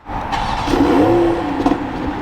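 A BMW Z4 sDrive M40i engine cranks and catches by remote start, then settles into a steady idle with a low hum and a slight rise in revs.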